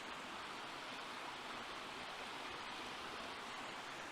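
A stream of water flows steadily beside a canal, a constant broadband rush that runs without pause throughout, fairly soft and with no voices.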